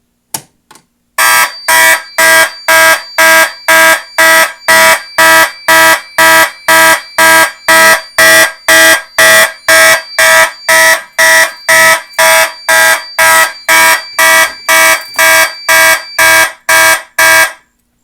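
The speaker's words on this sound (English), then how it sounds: "So I'll pull the Federal Signal pull station." A loud fire alarm horn on a Federal Signal system blares after a pull station is pulled, in a fast, regular pulsing pattern, harsh, buzzy and slightly raspy, continuing steadily for many seconds before cutting off.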